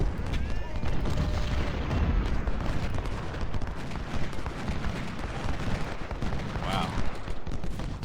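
Artillery fire and gunfire from an Ultimate General: Civil War battle at Chickamauga, a dense continuous roar of booms and crackling shots layered under steady battlefield noise throughout.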